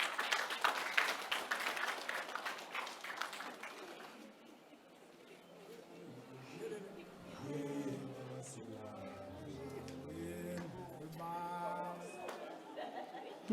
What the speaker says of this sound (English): Mayor Judy, can you give her a round of applause as she ascends to the stage?